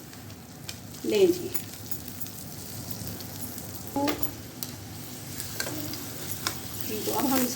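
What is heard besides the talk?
pizza paratha frying in a frying pan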